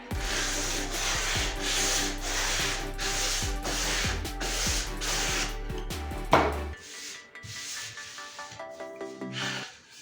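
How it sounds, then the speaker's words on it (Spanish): Steady rhythmic rubbing of sandpaper against an MDF or melamine board edge, repeated strokes close up, then a few lighter scrapes and a sharp knock before quieter rasping. "Para finalmente pasar nuestra lija y matar el filo."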